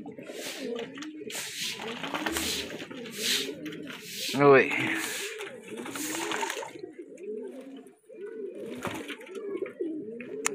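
Pigeons coo softly in a steady, repeating rhythm while bathing, several at once, with a brief voice and some splashing chatter mixed in at moments.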